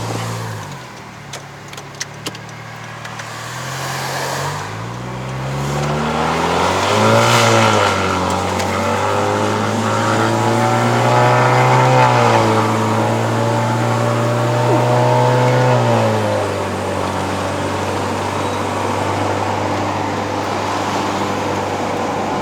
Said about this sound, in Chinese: 这辆车是有改 exhaust 啦，所以要听。